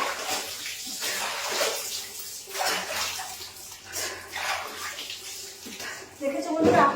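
Water is poured and splashed over a body during a hot-weather bath, repeated gushing pours in bursts under occasional talking.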